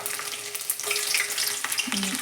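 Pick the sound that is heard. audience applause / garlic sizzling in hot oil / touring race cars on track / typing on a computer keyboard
garlic sizzling in hot oil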